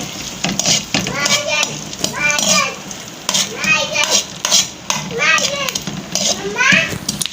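Melon seeds frying crisp with almonds in a pan while making panjiri, a soft stirring and sizzling texture running continuously beneath a voice that keeps talking over it.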